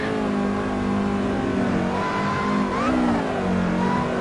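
Race car engine in the driving game Assetto Corsa, revving up and down through shifting pitches, close and loud with no talk.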